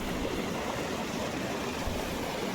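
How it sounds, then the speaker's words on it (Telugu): Steady rushing flow of water at night, broad and continuous like a stream, with no voices over it. "ఇక్కడ చూడండి వాటర్ అయితే ఎలా ఫ్లో అవుతుందో"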